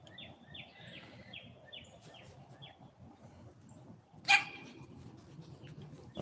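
A pet dog gives one sharp, loud bark that stands out against quiet background rustle, with faint higher chirp-like calls earlier and another sound starting at the very end.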